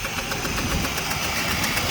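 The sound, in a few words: 2004 Jeep Liberty engine running with a bad exhaust leak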